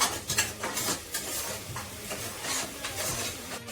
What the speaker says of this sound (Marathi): चांगलं असं फ्राय करायचं त्याच्यात कांदा वगैरे